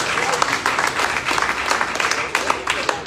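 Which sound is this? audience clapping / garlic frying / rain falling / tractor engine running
audience clapping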